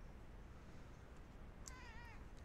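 A cat gives a single short meow near the end, faint and slightly wavering over a low steady background hum.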